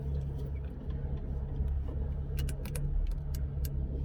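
An Audi S4 fitted with a JXB carrier bearing support bushing drives along. Inside the cabin it makes a low, steady drone and rumble with faint ticks on top, quiet and even throughout, with no talking.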